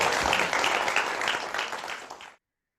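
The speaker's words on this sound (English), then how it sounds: "Big round of applause for these 2 gentlemen, please." An audience claps after a stage magic act, a dense burst of applause lasting about two seconds and then cutting off sharply.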